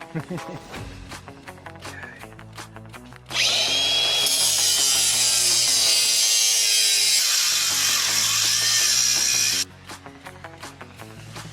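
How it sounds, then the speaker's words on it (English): A bandsaw cuts through a workpiece in a loud, sustained six-second run, framed by quieter clattering and handling noises before and after. "This bandsaw's kind of a pain in the butt."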